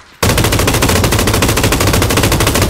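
Sustained automatic gunfire in the PUBG battle royale game on the Erangel map: one rapid, unbroken burst of machine-gun shots fires at an even, fast rhythm and stays loud throughout.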